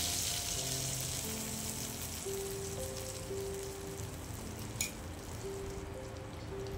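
Ground spice paste hits hot oil for a fasting peanut curry and sizzles in a steady, fine crackling hiss, close and continuous, with faint tones in the background and no talking.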